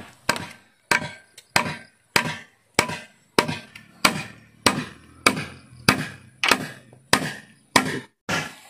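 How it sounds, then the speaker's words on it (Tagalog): Steady, evenly spaced blows from a short hammer strike wood, about fourteen sharp thuds over several seconds, close and loud with no talking. "Maiksi ang martilyo, pero nakakapukpok naman."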